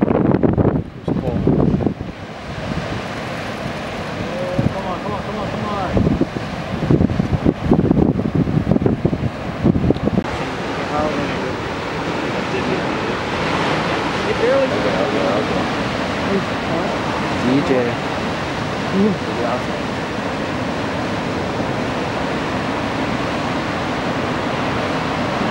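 Big surf at Honolua Bay, Maui, during an epic January swell: a loud, steady wash of breaking waves and rushing water, with bursts of wind noise on the microphone and some talk early on.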